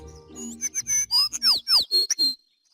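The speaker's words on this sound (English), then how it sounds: "It's a sparrow chirping nearby." A sparrow gives a quick series of bright chirps and whistled notes close by, about a dozen short calls in a burst before going quiet.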